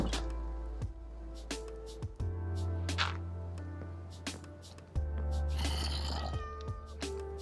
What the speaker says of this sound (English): And there's cats.